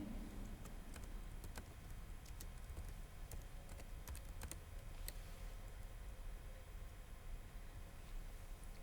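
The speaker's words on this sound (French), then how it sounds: "On tape par exemple Fokia marocaine." Typing on a computer keyboard while entering an article title on a wiki, heard as a faint, irregular run of key clicks over steady background hiss.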